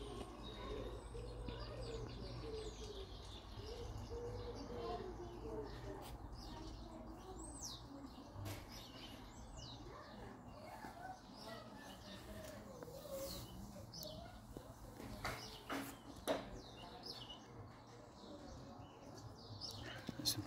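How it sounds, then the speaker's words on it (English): Birds chirp and coo outdoors in fresh air, the calls light and intermittent over a low, soft background, with occasional brief sharp sounds near the end. "Some birds have come."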